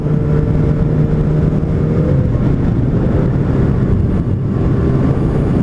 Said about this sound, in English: The engine feels really smooth, it's got nice acceleration in the low gears.